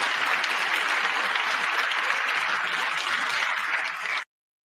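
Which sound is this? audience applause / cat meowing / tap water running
audience applause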